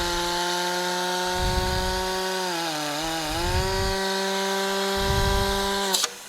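Magnum Pre-Drill motor runs with a steady, loud high whine that dips briefly as it drills hinge holes in a clamped door, with three rhythmic grinding bursts underneath before stopping abruptly.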